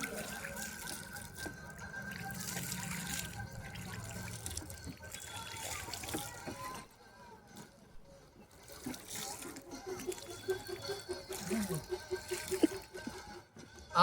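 Water is sprinkled in small amounts onto a soil mix while planting outdoors, making soft intermittent trickling and splashing, with a voice talking over parts of it.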